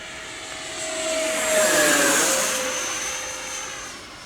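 An FMS T45 Goshawk Carrier V2 radio-controlled jet, driven by a 70 mm twelve-blade 6S electric ducted fan, makes a low pass on its maiden flight. Its high whine swells as it nears, then fades with a falling pitch.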